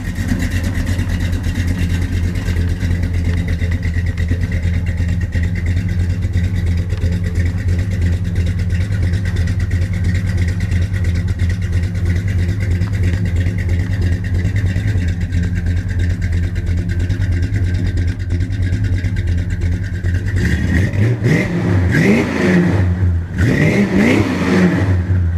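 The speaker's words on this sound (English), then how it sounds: "Well, we got the car to start" Car engine idling steadily in cold snowy weather, then revving in a few sharp bursts near the end, loud and close with no talk.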